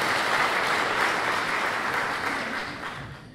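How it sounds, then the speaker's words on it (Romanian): An audience applauds steadily at a Christian spiritual gathering in Lipova, a dense wash of clapping that holds strong and then fades toward the end. "Aplaudați-l și susțineți-l pe Bogdan pe adina noastră."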